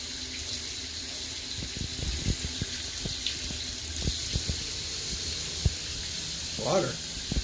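Water running from a tap to bathe a Bengal cat, a faint steady hiss under a voice, with a brief splash near the end.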